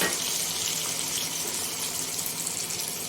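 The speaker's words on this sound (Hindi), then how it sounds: "तो ये थोड़ा सा इसमें पानी डालूंगी ताकि प्याज हमारा अच्छे से गल जाए" Water poured steadily into a cooking pan of onions and cashews, a continuous close splashing gush holding an even level for several seconds with no talk.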